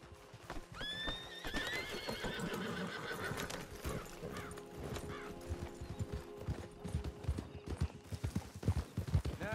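A horse whinnies in the video game Red Dead Redemption 2, then hooves clip-clop steadily with jingling tack, the rhythm quickening toward the end; a faint musical tone underneath.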